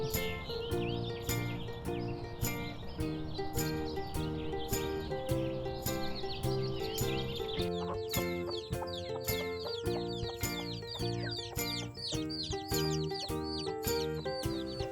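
Hens cluck repeatedly alongside a rooster's calls, a busy farmyard chorus with steady rhythmic tapping throughout.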